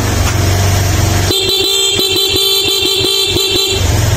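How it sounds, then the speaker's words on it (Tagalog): A Suzuki Skydrive scooter horn honks in a rapid series of short beeps over a steady engine rumble, loud and close by. "Meron tayong busina."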